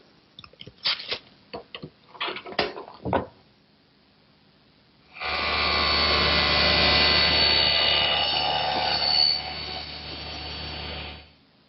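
A power saw cuts a wooden board to length for a doll house build, running as one loud steady whine for about six seconds after a run of short knocks and clatter.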